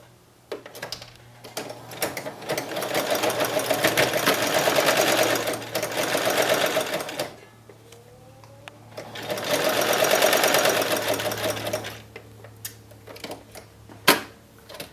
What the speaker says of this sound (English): So you're literally just sewing on the top of the fold, a top stitch that holds this down.